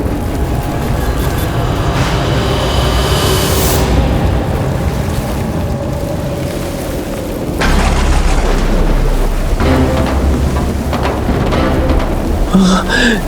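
Heavy night storm with steady pouring rain, joined by deep rumbling thunder swelling in the middle and again near the end; continuous and loud, no voices.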